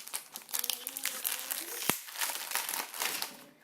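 Plastic wrapping on a speedcube crinkles and crackles close up as it is pulled open, a busy run of sharp rustles with a brief voice under it.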